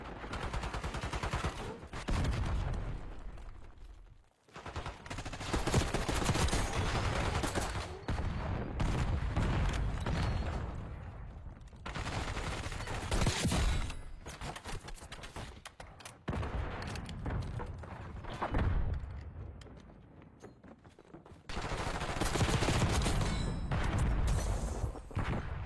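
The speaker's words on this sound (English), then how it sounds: "Why is he shooting at me?" Rapid video-game gunfire crackles in dense, loud bursts of shots that run almost continuously, with a few brief pauses between volleys.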